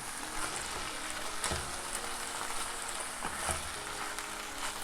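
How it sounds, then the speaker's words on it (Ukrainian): Tomatoes for a Bolognese sauce fry in a pan with a soft, steady sizzle, while a few stirring scrapes come through at a moderate, fairly quiet level and nobody speaks. "І перемішуємо це все для початку. Щоб поступово ці помідори трошки прожарювалися."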